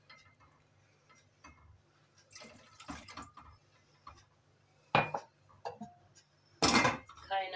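A metal cooking pot clanks against a surface, then a brief gush of water pours out of it, with faint kitchen clatter in between.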